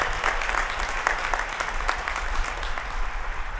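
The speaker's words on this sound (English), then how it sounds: "Join me in a round of applause for those who have served this country in the military." Steady, full applause from a commencement crowd honoring military veterans at a university graduation ceremony, many hands clapping continuously at close range.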